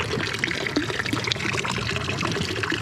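Water runs from a public drinking fountain on a Zurich street, a steady close splashing stream that fills the whole clip alone, with no voices.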